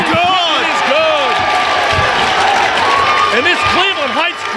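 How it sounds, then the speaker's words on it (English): A raucous crowd roars and cheers at a high school basketball game between Benedictine and Cleveland Heights, loud and sustained, with a commentator talking over it. "this Cleveland Heights crowd is raucous here"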